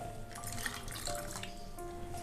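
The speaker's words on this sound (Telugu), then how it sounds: "1/2 కప్పు నీళ్ళు పోసుకోవాలి." Water poured from a half cup into puffed rice dosa batter before blending, a steady splashing trickle heard close and alone, with no talk.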